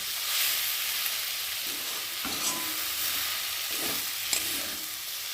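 Shrimp with pumpkin greens frying in a pan give off a constant close hiss and sizzle, with a few soft scrapes of a spatula stirring through it.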